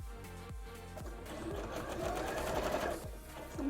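A sewing machine stitches a pinned fabric layer onto a pumpkin cosplay costume, its needle thumping in a fast, steady rhythm up close, running alone without voices.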